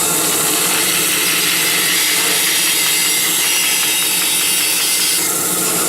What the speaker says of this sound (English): Turn on the bandsaw.